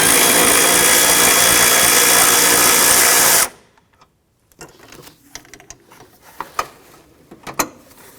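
Ratchet or power tool working a 10mm bolt off the engine mount bracket on a 2009-2015 Honda Pilot, a loud steady mechanical whir for over three seconds that cuts off abruptly, followed by quiet scattered clicks and handling noises.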